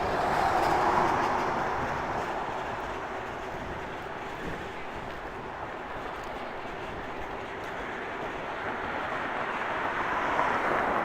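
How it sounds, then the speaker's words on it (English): A subway train rolls past near Mount Pleasant Cemetery in Toronto, a broad steady rumble that swells, holds, and builds again over about ten seconds, heard from nearby outdoors with no talking. "We might see a train roll by."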